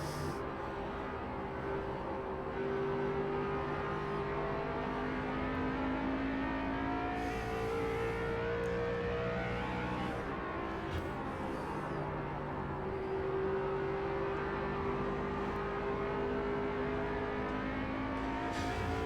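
Simulated ARCA race car engines roar at Iowa Speedway in iRacing, a steady, loud, droning engine note with shifting harmonic pitches as cars run close together, continuous throughout with no talk.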